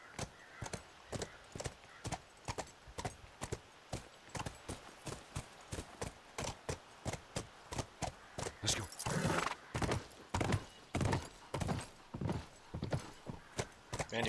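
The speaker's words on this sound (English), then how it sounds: "do horses really go upstairs that easily?" Rhythmic hoofbeats clop steadily throughout, a horse in The Last of Us Remastered moving at a brisk pace up stairs, with a brief voice speaking partway through.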